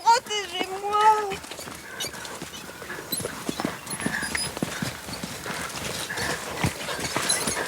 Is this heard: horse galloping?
yes